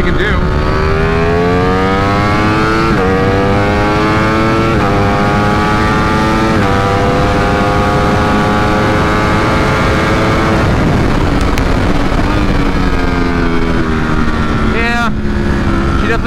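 A 2020 Ducati Streetfighter V4 with an ECU flash tune accelerates hard in second gear, its engine note rising steeply and repeatedly through loud, close revs with brief dips at each shift, wind roaring throughout.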